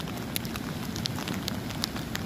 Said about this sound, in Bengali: বৃষ্টি পড়ছে, তার সাথে সাথে বরফ শিল পড়ছে।